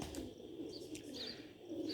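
Ferozpuri pigeons give faint, soft coos and a few chirps, quiet and close, with a light rustle in between.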